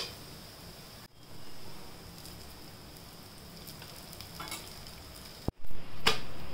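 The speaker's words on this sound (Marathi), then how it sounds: "आता दुसऱ्या साईडने पण आपण छान खरपूस भाजून घेऊया।" Onion thalipeeth, a roasted flatbread, sizzles steadily in a pan as its second side browns, with a brief pause and a few scraping, clattering touches of a spatula near the end.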